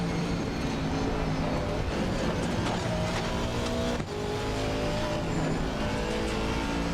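Race car engine in a driving video game, lapping the Nürburgring Nordschleife: a loud, constant engine drone that fills the whole stretch with only a brief dip midway, and no talking.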